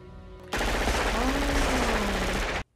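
Burst of loud, continuous gunfire from the action film Die Hard at Nakatomi Plaza, a dense sustained volley of roughly two seconds that cuts off abruptly, following a brief tonal passage.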